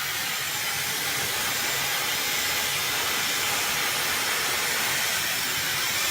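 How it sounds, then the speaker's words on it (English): A hair dryer blows on hair after a gym session as a continuous close airy whoosh that stays steady throughout, with no talking. "I'll always blow dry just a little bit to kind of work through."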